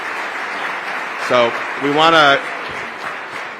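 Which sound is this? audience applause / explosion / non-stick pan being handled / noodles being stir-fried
audience applause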